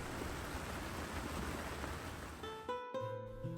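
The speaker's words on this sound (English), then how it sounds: "sleeping in a canvas medieval tent while it's raining is the best ASMR" Steady rain patters on a canvas medieval tent at a LARP gathering, a dense close hiss of drops on fabric that gives way to music near the end.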